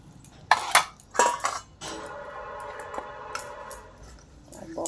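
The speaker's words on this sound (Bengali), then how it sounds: "প্রথমে পিতলের বাসনগুলোকে তেঁতুল দিয়ে মেজে নিচ্ছে।" Brass utensils are scrubbed clean with tamarind: a few close metallic clanks and scraping rubs at the start, then a lingering ringing hum with softer clinks and small knocks.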